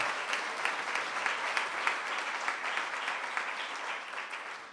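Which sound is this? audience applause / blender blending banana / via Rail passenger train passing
audience applause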